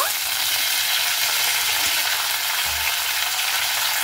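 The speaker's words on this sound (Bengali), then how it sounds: "এবার আমি সেই সিমগুলোকে হালকা করে ভেজে নেব।" Flat beans fry in oil with a pinch of black cumin in a wok, making a loud, continuous close sizzle with an occasional soft stirring knock and no voices.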